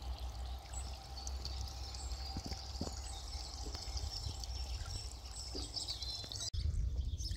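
Steady babbling and trickling water at the Luce spring, a continuous close gurgle throughout with faint bird chirps above it and a brief handling knock near the end.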